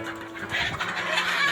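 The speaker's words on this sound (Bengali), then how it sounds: "এগুলো হচ্ছে অরিজিনাল মিশরীয় ফার্মি মুরগি" Egyptian Fayoumi laying hens on a farm, soft clucking and murmuring from several birds close by, continuous over a low steady hum.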